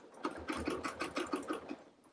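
A sewing machine stitches through a thick quilt seam in a rapid, even run of about eight mechanical clacks, close and fairly quiet.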